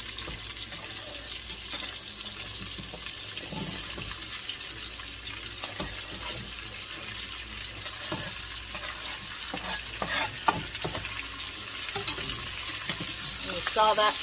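Potatoes and celery sautéing in a pot for corn chowder, a steady close sizzle broken by scraping stirs and small clatters, which grow louder near the end.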